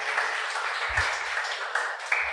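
A church congregation applauds in a dense, sustained wash of clapping that fills the room evenly, with a few louder bursts and low thumps scattered through it and no speech over it.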